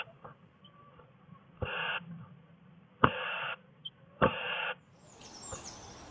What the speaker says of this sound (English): we think this is a crow trying to force its way inside the bird box, but Mama Bluetit is having none of it